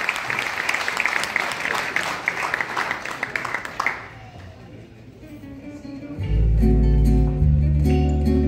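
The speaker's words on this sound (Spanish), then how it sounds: "Y fuerte el aplauso para don Tomás Osorio Vargas" A concert audience in Brooklyn, New York applauds loudly for about four seconds before the clapping dies away, then a sustained musical chord or tone starts and holds to the end.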